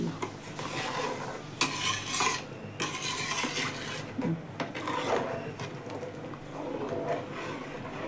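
Masala with salt being stirred in a pot for pulav: scraping and clinking of a spoon against the metal pot over a faint sizzle, in irregular close bursts.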